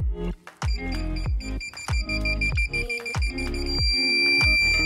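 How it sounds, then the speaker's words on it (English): A parking sensor alarm beeps rapidly and repeatedly with punchy, low thumping pulses, ending in a steady high tone. "here is me actually testing it with this alarm"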